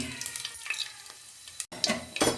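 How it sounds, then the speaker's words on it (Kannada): Mustard seeds and fennel seeds crackle and sizzle in hot oil in a pan, a steady close frying hiss with sharper pops bursting near the end, no voices. "ಇವಾಗ ಒಂದು ಸ್ವಲ್ಪ ಸಾಸಿವೆ ಹಾಕ್ಕೊಳ್ಳೋಣ"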